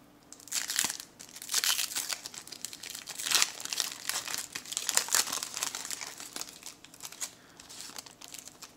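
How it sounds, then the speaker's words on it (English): Foil packs of 2019-20 Donruss Optic basketball trading cards being torn open and handled, giving steady close crinkling and crunching of foil wrappers through the whole stretch, with sharper tearing bursts, no talking. "let's cut to the chase and get opening some packs"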